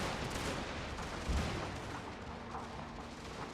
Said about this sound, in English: My artillery blasting away.